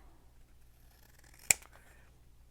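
A single quick scissor snip trims the end off a handmade paper tag, one short crisp cut in an otherwise quiet room.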